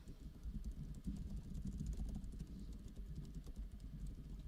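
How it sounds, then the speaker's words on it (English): Someone types fast on a computer keyboard in the background, a quiet, steady clatter of rapid keystrokes with no speech. "Someone's going crazy on the keyboard."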